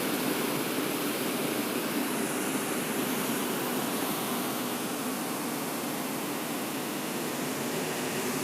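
River water flowing in a steady, unbroken rushing wash that holds at an even, fairly loud level throughout, with no voices over it.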